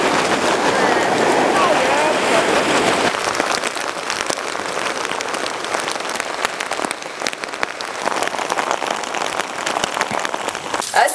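Heavy storm rain with strong wind at Liepāja creates a dense, continuous roar that stays loud for the whole stretch, with scattered patters and gusts.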